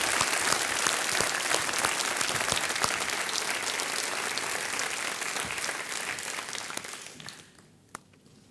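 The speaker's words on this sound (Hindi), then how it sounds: "एक बार तालियां बजा दीजिए हमारे कंटेस्टेंट के लिए" Studio audience applauding for contestants on a televised quiz show, a dense, steady wash of clapping that holds strong for about seven seconds before quickly fading out, with a single sharp clap near the end.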